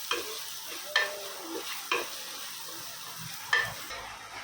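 Rinsed dal roasts in a pan while a spoon stirs it, with four spaced, distinct scrapes against the pan over a low, steady sizzle.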